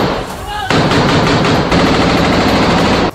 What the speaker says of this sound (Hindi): वीडियो में इजराइल के सैनिक जबालिया कैंप के अंदर फायरिंग करते दिखे।